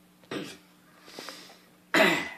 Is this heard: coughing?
yes